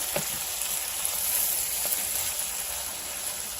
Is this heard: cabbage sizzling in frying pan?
yes